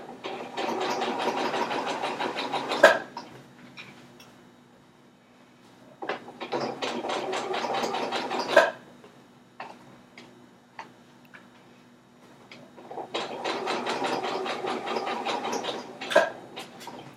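A sewing machine stitching a crotch seam in three bursts of rapid mechanical ticking, each several seconds long, separated by quiet pauses with faint clicks.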